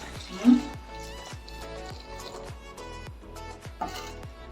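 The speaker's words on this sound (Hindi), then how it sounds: "और पानी इसके अंदर शामिल करेंगे।" Water runs from a container into a bowl of gram flour and yogurt for a kadhi pakora batter, a close, steady trickling pour with faint clinks and a soft knock near the start.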